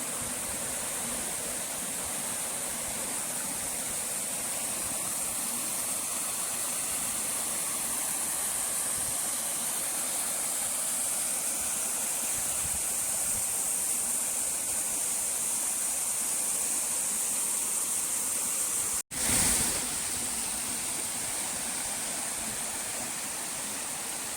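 A rain-fed waterfall pours down a hillside, a loud, unbroken broadband rush heard close up, with one brief thump near the end and no voices.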